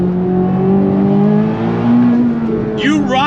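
A 2026 C8 Corvette ZR1 accelerates hard in second gear on throttle, its engine tone rising steadily and loud, with a brief sharp squeal or whine near the end.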